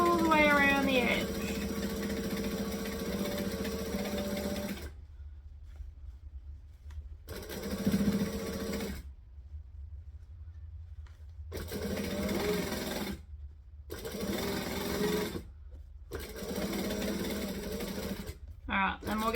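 A sewing machine stitches a child's hat in several steady mechanical bursts, each separated by a short silent pause, heard close and clear.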